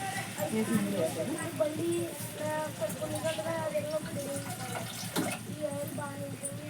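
Water poured into a cooking pot of chicken for a simple chicken curry splashes and trickles softly and fairly quietly, with a person speaking over it throughout.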